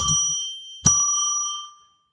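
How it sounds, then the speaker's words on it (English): A small bell rung to declare sacred space on a live psychic radio show: two clear, bright ding strikes, the second ringing out and fading, with no talk. "We're going to ring a bell 3 times to declare sacred space."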